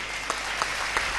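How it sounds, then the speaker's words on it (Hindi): A brief patter of applause from the audience at a Hindi comedy poetry recital, fairly faint, with a few sharper claps standing out at even intervals. "जरा एक बार ताली बजाइए"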